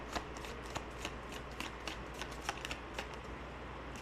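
Tarot cards shuffled and riffled by hand in a quiet room, a steady run of soft, close papery flicks and light slaps with sharper taps every few moments, no talking.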